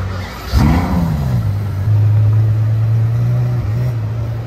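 A yellow Ferrari F430 Scuderia on a street in Monaco gives a sharp rev that flares and falls, then settles into a loud, steady engine drone close by.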